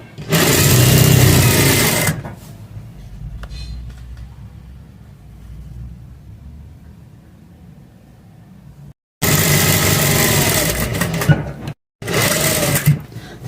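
Sewing machine stitching the centre seam of a fabric neck design runs in loud bursts: a long run at the start, then two more runs near the end split by a short stop, with a quiet lull between.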